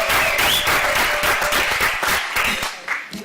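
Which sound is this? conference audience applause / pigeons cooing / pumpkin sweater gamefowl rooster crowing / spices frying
conference audience applause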